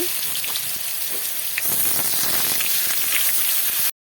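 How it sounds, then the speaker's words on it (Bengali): Onion and garlic paste hits hot oil in a wok, giving a steady, close hiss of sizzling that swells slightly louder partway through and continues unbroken until it cuts off. "তেলটা গরম হয়ে গেছে এখানে আমি পেঁয়াজ আর রসুন বাটাটা দিয়ে দিচ্ছি"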